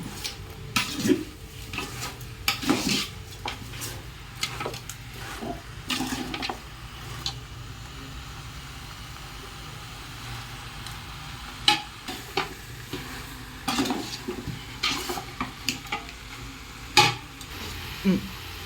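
Country chicken coated in mutton masala is stirred in a pan: a soft continuous sizzle broken by repeated sharp, close spoon scrapes and knocks against the metal, spaced irregularly.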